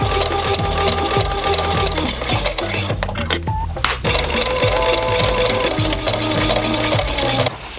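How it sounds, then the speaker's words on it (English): A sewing machine stitches dress lining, running steadily with a rapid mechanical stitching rhythm, loud and close, briefly pausing midway before continuing. "my sewing machine is just chewing up a bit of the lining there"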